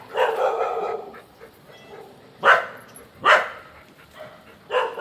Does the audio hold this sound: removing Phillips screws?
no